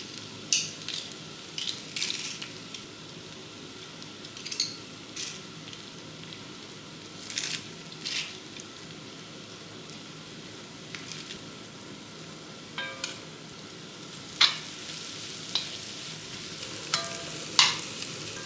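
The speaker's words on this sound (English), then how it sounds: "It is important that you're not frying the garlic too much." Steady sizzling of garlic and onion frying in a pan, with occasional scraping stirs and crackling pops, close up and with no talking.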